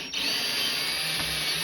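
Power driver whirring steadily at close range while tamper-proof T15 Torx screws are backed out of a Schumacher battery charger case, one short continuous burst.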